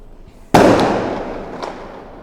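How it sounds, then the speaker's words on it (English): A single firework bursts with a sharp, loud crack, followed by a long crackling decay and a fainter pop near the end, in an otherwise quiet space. "Already fireworks, huh?"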